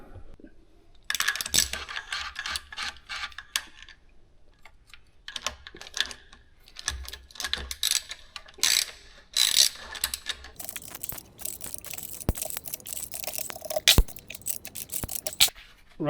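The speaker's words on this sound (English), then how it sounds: "All we've got to do here is undo the 10 bolts." Ratchet cranking loose the cylinder head bolts on a flood-damaged R50 Mini Cooper engine during a full stripdown, close-up bursts of rapid clicking separated by short pauses, with occasional metallic knocks and no talking.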